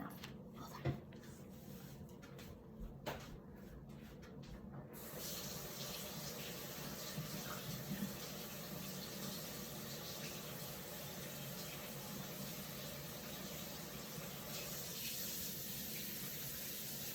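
A kitchen or bathroom tap runs cold water in a steady, even hiss that begins a few seconds in and continues unbroken, with faint background sounds before it starts.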